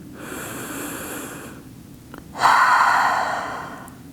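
Deep breathing during a yoga practice: a long inhale, a pause, then a louder drawn-out exhale, close and alone.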